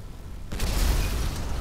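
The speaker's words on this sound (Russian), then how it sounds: "в моторный отсек я буду стрелять из гранатомета" In GTA 5, a grenade launcher round bursts against the engine compartment of an armored car, an abrupt close boom followed by a sustained roar of blast and debris.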